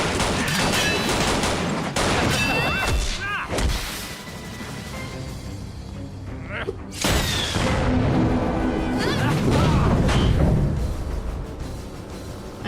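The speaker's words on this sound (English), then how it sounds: "Gunshots." Bursts of animated gunfire crack repeatedly amid loud, dense action noise and whooshes, with sharp impacts scattered throughout.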